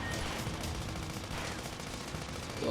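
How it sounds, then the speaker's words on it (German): Dense, continuous gunfire crackling throughout, loud and busy like rapid video game shooting in the Sand Land demo, with no talking. "Schuss."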